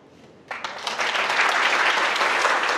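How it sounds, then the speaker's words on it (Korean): Wedding guests in a convention ballroom break into applause, starting abruptly after a quiet moment and swelling into sustained, dense clapping from a large crowd. "우리 아버님께 다시 한번 감사의 박수 부탁드리겠습니다"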